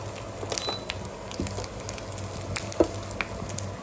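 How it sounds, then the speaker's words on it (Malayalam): A tempering of mustard seeds, dried chillies, curry leaves and coconut sizzles in hot oil, a close crackling hiss dotted with sharp pops and spatters throughout, with no voices. "എനിക്ക് ആവശ്യമായ വറവാണിത്. കടുക്, വറ്റൽമുളക്, കറിവേപ്പില, കുറച്ച് തേങ്ങ."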